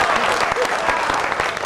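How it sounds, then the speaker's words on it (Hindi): Dense, loud crowd applause at a Hindi comic poetry gathering during a Vishwakarma Jayanti festival, a continuous wall of clapping hands with some voice mixed in. "तालियां बजाइए"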